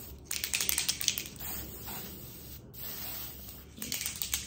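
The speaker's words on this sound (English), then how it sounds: "very lightly spray this across the front of the lace to camouflage the knots" Light bursts of Bold Hold spray misted across the lace front of a frontal wig, several short hissing puffs at the start and end with a quieter pause between, close and soft.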